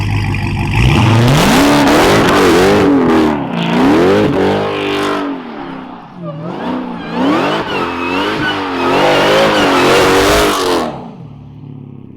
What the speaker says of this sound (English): I'm using weight transfer to flick the car around during a U-turn